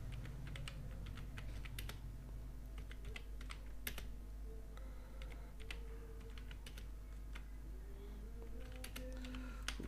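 Typing Urdu text on a computer keyboard: a steady run of light, close key clicks and taps across the whole stretch over a low constant hum, with no speech.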